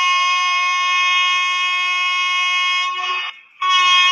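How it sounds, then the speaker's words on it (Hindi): An ICF passenger train in an Indian railway game sounds a loud, sustained multi-tone horn that holds steady for about three seconds, cuts out briefly, then blasts again. "यहाँ पर हॉर्न साउंड की आ रही है"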